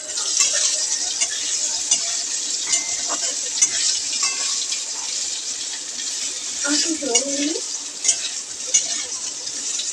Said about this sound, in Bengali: এই যে উচ্ছে ভাজাটা বসিয়ে দিয়েছি